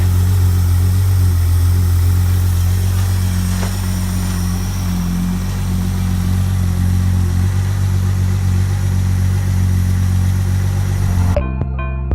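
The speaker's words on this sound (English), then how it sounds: "And this is the car running, finally." Classic car engine running after a Holley fuel pump installation, a loud steady idle with a deep rhythmic rumble held close for about eleven seconds before cutting off abruptly.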